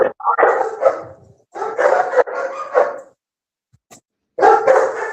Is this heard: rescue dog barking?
yes